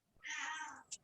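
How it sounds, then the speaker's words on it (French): A pet cat gives one clear, drawn-out meow, quiet and close, followed by a brief high chirp, with a hushed room behind it and no voices. "Madame Chat, elle n'est pas contente que je fasse"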